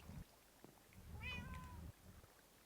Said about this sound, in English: Now we got a cat in there for a test,